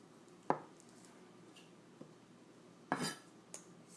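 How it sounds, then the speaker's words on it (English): A knife cuts leftover potatoes into thick rings on a board, giving a few sharp, separate chops spaced apart in a quiet kitchen, with one double knock near the end. "So just slice them up in kind of thick rings."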